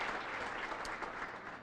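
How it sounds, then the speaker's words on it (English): Audience at an awards event clapping, a dense sustained round of applause that fills the short moment evenly without voices. "so we'll give them a round of applause as well."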